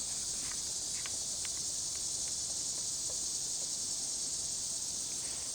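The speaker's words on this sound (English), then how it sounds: "The cicadas are out and they're beautiful." Cicadas drone in summer trees as a steady, loud, high-pitched buzzing wash that never lets up, with a few faint clicks and ticks underneath and no voices.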